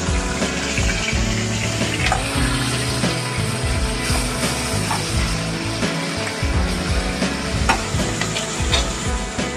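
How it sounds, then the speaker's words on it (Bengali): A hilsa fish head rubbed with salt and turmeric fries in hot oil with green chilli, giving a loud, steady, close sizzle and crackle throughout, with no talking. "এরপর দিচ্ছি ওর মধ্যে ইলিশ মাছের মাথাটা, যেটা আগে থেকে নুন হলুদ মাখানো ছিল, দিয়ে একটু ভাজবো।"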